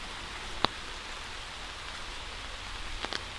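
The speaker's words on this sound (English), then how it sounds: "It is a rainy day after all" Rain falls in Wissahickon Valley Park in Philadelphia, a faint, steady hiss of drops on the surrounding surfaces, broken by a sharp close tap early on and a few soft rustles near the end.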